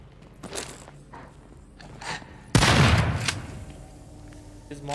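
Gunfire from the horror video game Daymare 1998, with a sudden loud burst of shots and a booming blast amid footsteps and scattered action sounds, and faint talk around it.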